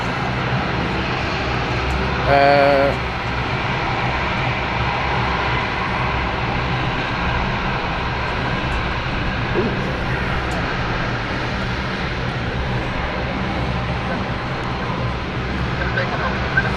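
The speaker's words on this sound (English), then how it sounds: "KLM ready for takeoff" A KLM passenger jet at London City Airport, ready for takeoff, produces a steady, loud engine roar that holds throughout, with a brief tonal whine early on.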